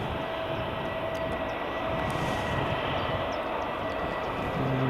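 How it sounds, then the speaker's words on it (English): A WestJet airliner at Edinburgh Airport in the early morning produces a loud, steady engine roar that fills the whole moment without a break or any talk. "Pan back to the WestJet."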